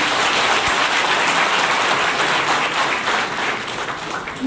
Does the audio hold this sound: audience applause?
yes